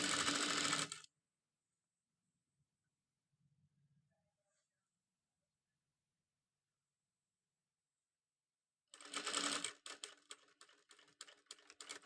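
A sewing machine stitches a school uniform top placket in two short rapid bursts, one at the start and a longer one at the end, separated by near silence.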